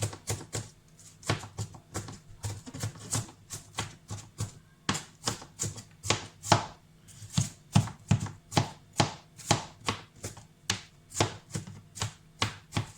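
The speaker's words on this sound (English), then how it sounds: "Excuse my chopping. I was never good at chopping." A meat cleaver chops raw prawns finely on a board in a home kitchen, a quick series of sharp knocks in uneven bursts with brief pauses, close and fairly loud, with no talking.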